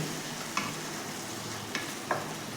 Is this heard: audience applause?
no